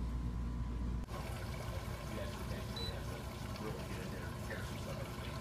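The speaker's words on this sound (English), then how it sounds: "And I hear the water." Water running steadily into an RV's fresh-water tank through a hose fill, a continuous close hiss and gurgle that persists throughout without break.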